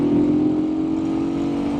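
A Janus Halcyon 450 air-cooled, oil-cooled single-cylinder motorcycle engine runs at steady speed during a ride, a loud, even drone with a strong steady tone.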